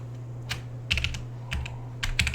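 Bursts of computer keyboard keystrokes as a password is typed, clustered in quick groups with short pauses between, close and fairly quiet over a steady low hum.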